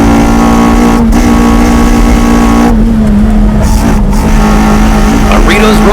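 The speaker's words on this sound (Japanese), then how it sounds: "Taniguchi's EG6 spreads the gap once again on the straightaway" A Honda EG6 race car accelerates hard down a straightaway during a Japanese track battle, its engine a loud, steady, droning roar that holds throughout with little letup.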